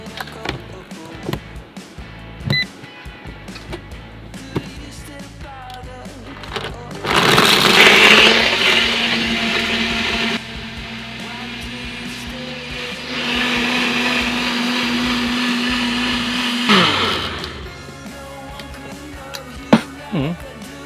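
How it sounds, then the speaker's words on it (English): A blender whirs loudly for about ten seconds inside a 2001 caravan, briefly dips, then roars again before cutting off, with faint clatter around it. "I love having a blender!"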